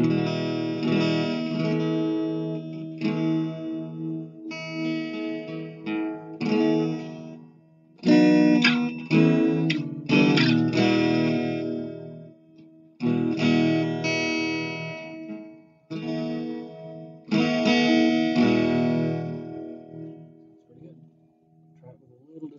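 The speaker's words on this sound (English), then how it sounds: "you can play guitar, acoustic guitar, with distortion on it." Acoustic-electric guitar, a B.C. Rich BCR3N, strummed through a distortion effect in bursts of chords with short pauses between, loud and close with no talking.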